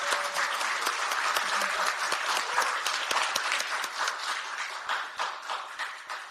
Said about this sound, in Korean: 박수로 한번 뜨겁게 환영을 해주시면 감사하겠습니다